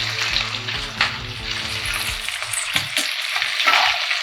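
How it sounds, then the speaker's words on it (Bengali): Diced capsicum and onion fry loudly in a pan for a Bengali-style chicken curry, with continuous sizzling and several stirring scrapes, and no speech. "এখানে ক্যাপসিকামটা দিয়ে দিচ্ছি। পেঁয়াজটাও দিয়ে দিলাম।"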